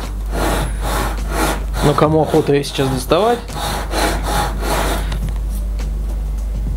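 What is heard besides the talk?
hand saw cutting wood lengthwise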